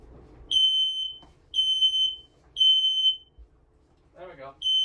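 A home smoke alarm under test gives three long, loud, piercing electronic beeps in a steady rhythm, with a fourth starting at the end; a brief burst of speech falls in the gap before it.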